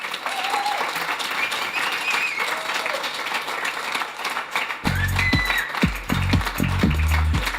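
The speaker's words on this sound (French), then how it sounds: "On applaudit John McLaughlin" A studio audience applauds for jazz guitarist John McLaughlin in a loud, sustained burst of clapping, while a voice talks over it and low thumping sounds join near the end.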